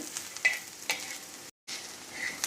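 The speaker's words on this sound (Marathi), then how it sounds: "त्यात मी हे खडे मसाले घालते आणि पुन्हा 1 मिनिटभर परतून घेते" Sliced onion and whole spices sautéing in a pan for katachi amti: a quiet sizzle broken by a few distinct spatula stirs and scrapes, with a brief silent gap midway.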